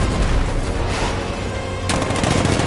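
Rapid cannon fire from a 9mm cannon in a Batman video game, a loud continuous burst of shots with a sharp renewed volley near the end.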